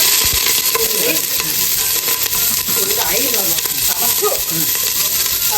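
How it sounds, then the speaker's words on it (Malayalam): Chopped onion sautéing in a hot pan for chicken, a constant bright sizzle with intermittent spoon scrapes and clinks, and faint voices murmuring underneath. "ഉള്ളി ഇടുക. എന്നിട്ട് നല്ലോണം വഴറ്റാം."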